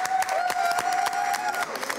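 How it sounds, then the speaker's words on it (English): Applause for Ireland at a club gathering, dense clapping from an audience with a steady sustained tone running beneath it, loud and continuous throughout with a few sharper claps standing out. "Let's have a round of applause for Ireland"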